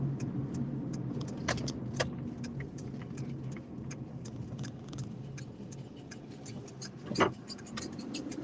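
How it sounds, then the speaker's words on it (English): A truck with rubbing brakes drives past: a steady road rumble is dotted with faint ticking and scraping clicks, and a brief louder knock comes near the end. "Sound like the brakes are rubbing."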